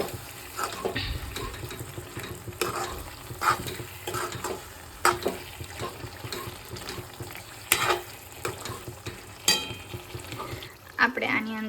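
Gujarati turiya patra curry of ridge gourd and colocasia leaves being stirred in a sizzling pan, with irregular scraping and clacking strokes over a soft steady frying hiss, fairly quiet and close, with no talking.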